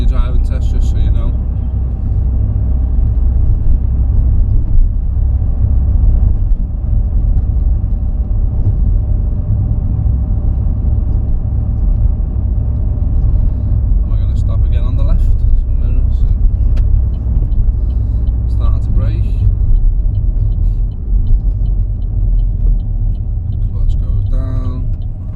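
Steady low engine rumble and road noise from a car cruising at about 29 mph on a 30 mph city road, continuous and close throughout, with a voice talking over it.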